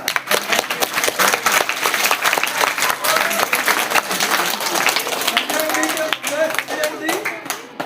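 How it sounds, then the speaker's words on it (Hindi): An audience gives vigorous applause for Sanjay at a gathering, with loud, dense clapping and sharp individual claps throughout, and voices calling out beneath it. "संजय जी मिलकर के लिए जोरदार तालियां।"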